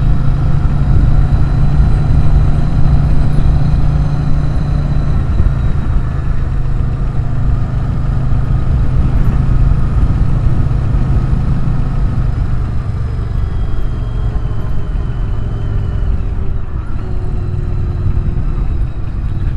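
A shaft-driven Yamaha Virago 750 motorcycle engine rumbles steadily while riding, a continuous loud drone mixed with wind noise and no breaks.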